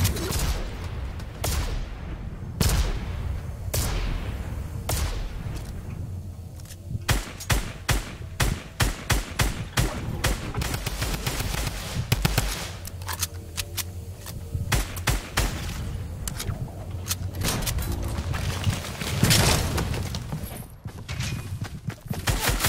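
Gunfire rattles through a Fortnite match, dense rapid shots and bursts that are loud and close, mixed with footsteps and other game sounds over about twenty seconds.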